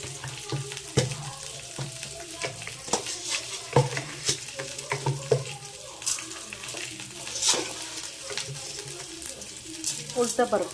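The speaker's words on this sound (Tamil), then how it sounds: "நல்லா வதக்கிக்கோங்க" Onions and urad dal sautéed in a hot kadai give a crackling sizzle with the scrape and clack of a stirring spoon at an irregular pace, close and moderately loud, with no one talking.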